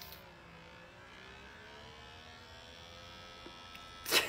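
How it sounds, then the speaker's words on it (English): A GLOfacial suction facial device with blue light running against skin: a steady, quiet electric motor hum with shifting tones, ending in a brief louder burst. "You can feel it sucking out the gunk in your skin."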